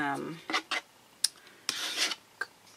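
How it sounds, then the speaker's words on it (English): A card scrapes gesso across a mixed media painting in several short, rasping strokes with pauses between them, close and fairly quiet, with no talking. "card here to scrape that on"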